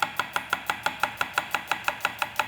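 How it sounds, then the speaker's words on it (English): A knife slices an onion pole to pole on a cutting board while preparing Japanese beef noodle soup, giving about fifteen crisp, evenly spaced chopping strokes, close and clear, with no talk. "I much prefer slicing my onion for dishes like this the other way, so from pole to pole"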